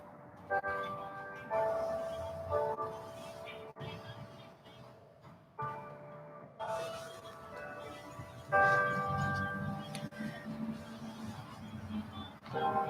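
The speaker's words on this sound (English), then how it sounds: "There are the local chimes." Local clock chimes ring outdoors in Echo Park, a series of resonant bell tones struck at intervals and left to ring out, fairly distant, with faint background voices now and then.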